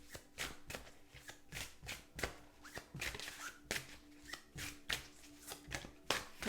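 Tarot cards are shuffled in repeated quick riffles and taps, close and fairly quiet, in a steady rhythm of short bursts.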